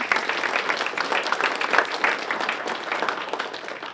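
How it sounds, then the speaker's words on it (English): An audience at a community conversation event on neighborhood conditions breaks into sustained applause, a dense, even wash of clapping from many hands in a room. "give them a round of applause"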